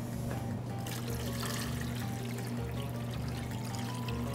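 Water poured into a sugary, strongly alcoholic pickling liquid for ramps in a restaurant kitchen, a steady close trickle and splash running continuously over a low background hum.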